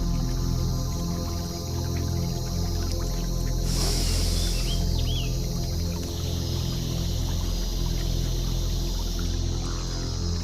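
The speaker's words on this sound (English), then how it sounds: "Hear the water." Gentle flowing water heard as a soft, steady wash beneath a continuous low droning hum, with faint chirps and splashes scattered through and no speech.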